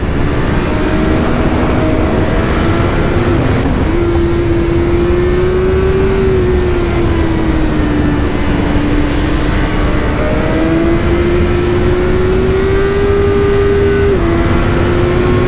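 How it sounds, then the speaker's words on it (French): A BMW S1000R four-cylinder motorcycle engine roars continuously at high revs, its pitch rising and holding steady over loud rushing wind noise. "Et le moteur 4 cylindres il est jouissif."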